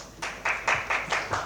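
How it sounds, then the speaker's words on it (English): A round of applause at a technical conference session, heard as several bursts of clapping from an audience, moderately loud and fairly close, with no talk over it. "Round of applause, please."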